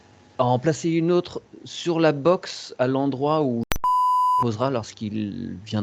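A telephone gives a sharp, steady electronic beep that cuts in briefly between stretches of French conversation, clear and prominent over a pause in the talk.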